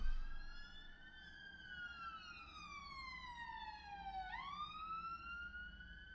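A police car siren drifts past slowly and faintly, its wailing tone sliding steadily down, then sweeping sharply back up before continuing at a distance.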